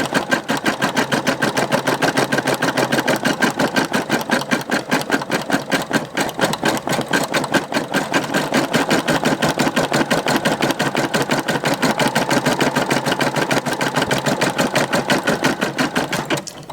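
A Brother embroidery machine stitches a beard-themed patch, its needle hammering in a fast, steady, even rhythm with a loud mechanical whir that runs close and unbroken throughout.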